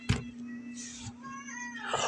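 A house cat meows nearby, a few short tonal mews spread over two seconds, fairly clear against a steady low hum, with no speech.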